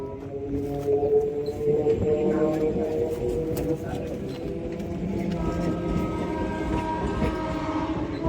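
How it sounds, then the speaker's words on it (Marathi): A train rumbles along a railway track near a level crossing beside a bridge, a steady close rolling roar with tonal horn-like hums, loud and sustained throughout with no talk. "मागे बघा ट्रेन येते माझे. ही पटरी क्रॉस करून जावं लागेल."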